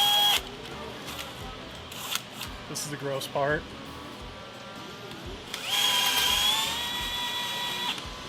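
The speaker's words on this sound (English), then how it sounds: "I'm gonna tap it with a drill." A power drill fitted with a very dull bit taps a hole during a budget industrial machine build, giving whining bursts that stop and start, ending in a long high-pitched grinding whine; a voice speaks briefly.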